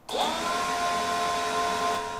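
A steady, loud electric whine with a high motor tone spins up quickly and holds constant for a couple of seconds, a DeWalt 20V cordless leaf blower on its lowest setting, heard about four feet away.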